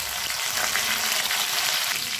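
Steady crackling sizzle of urad dal, curry leaves and dried red chillies frying in hot oil, close and continuous with no voices.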